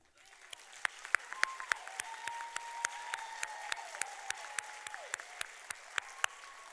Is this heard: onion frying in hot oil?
no